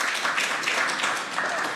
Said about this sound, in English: Now, the people to the left of me are clapping.